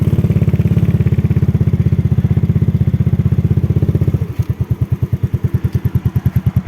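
A Yamaha Mio Sporty 5TL scooter engine idles close by with an even, rapid putter, dropping to a slower, deeper chug partway through.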